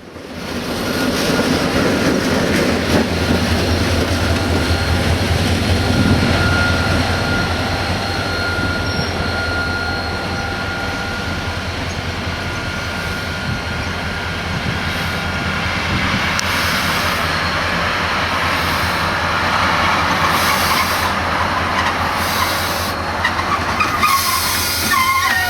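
A train stopped for a change to a Slovenian locomotive on a Balkan rail journey, with a steady low rumble and hum throughout, a faint tonal whine, and brief hissing bursts toward the end, with no voices.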